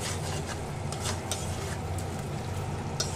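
Fried prawns stirred into a thick spice masala in a pan make a steady soft sizzle with intermittent scraping strokes of a spatula, close and moderately quiet.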